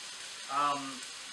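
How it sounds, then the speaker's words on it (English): Pea-sized diced potato dropped into a pan of browned onions, a short burst of sizzling that swells briefly and then settles into a quieter fry. "Now, in goes the potato. I've got some color on the onions."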